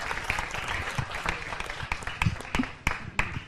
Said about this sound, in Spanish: Un aplauso para Orquídea que se atreve a salir adelante en el Open Mic.